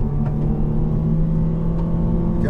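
A 2013 Nissan Juke Nismo AWD engine revs and accelerates from a standstill, producing a loud, close, steady low rumble with a constant droning tone and no speech.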